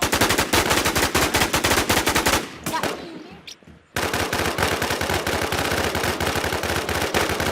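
Rapid automatic gunfire in the online shooter game Infestation, loud and continuous, cutting out briefly for a quieter stretch before the dense bursts resume.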